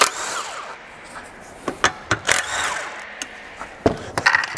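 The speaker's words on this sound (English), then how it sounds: "I've got a impact gun with a 10mm on it." An impact gun fitted with a 10mm socket works bolts on a Honda GX160 small engine being stripped down, giving several short, sharp rattling bursts separated by quieter pauses.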